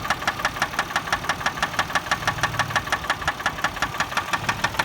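Rapid, steady knocking from a 2004 Chevy Malibu engine with a suspected spun bearing, a regular metallic tapping about four to five times per second over a low engine drone, close and continuous with no talk.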